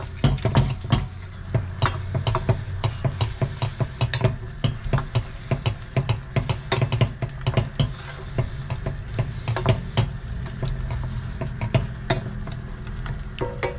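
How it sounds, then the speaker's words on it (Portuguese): A spoon scrapes the bottom of a frying pan of chicken thighs in sauce, with continuous rapid scratching and clatter over a steady close sizzle and no talking. "Raspar bem o fundo aqui da frigideira."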